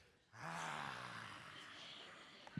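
A voice imitates a lion's roar, a single breathy, rumbling growl that swells quickly and then trails off.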